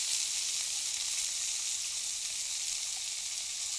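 Ground spice paste hits hot oil in a frying pan, giving a steady, loud, close sizzle with a bright hiss that holds evenly throughout, no voices over it.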